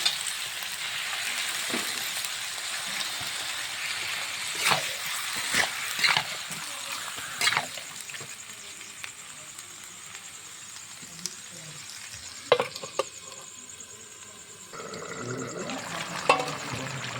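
Spice paste and chicken pieces sizzle and fry steadily in a pan, a continuous hiss broken by sharp stirring scrapes and clatters, close up, with no talk.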